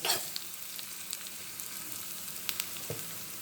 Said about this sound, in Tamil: இனி கொஞ்சம் வதக்கி எடுக்கலாங்க நம்ம